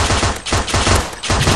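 Rapid automatic gunshots in the mobile shooter Mask Gun, loud close bursts repeating in quick succession with two short gaps, dominating throughout.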